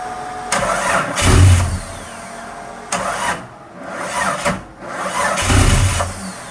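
A vehicle engine, freshly wired with digital gauges, cranks over in repeated loud attempts. Between the attempts there are pauses and a brief catch, all heard up close.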